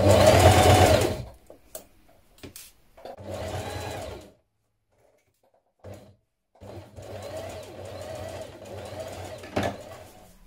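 A sewing machine top-stitches the pocket seams of a pair of jeans in several bursts of rapid whirring, separated by short pauses of near silence, close and alone.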